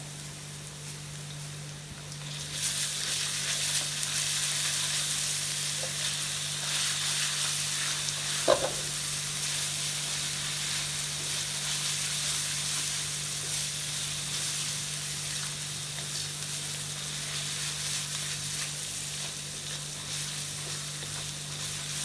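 Ginger garlic paste sizzles steadily in hot oil while frying for a chicken varuval. A broad, even hiss starts after a short quiet lead-in and carries on alone, with one brief clink of a utensil partway through.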